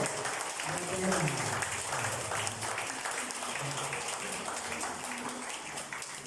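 Steady applause from a church crowd welcoming a guest speaker fills the space, continuous clapping with voices faintly mixed underneath.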